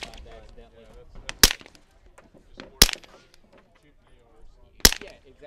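A suppressed Sphinx Arms SDP pistol fires three sharp, spaced shots at an outdoor range, each a loud close crack, with people talking quietly in between.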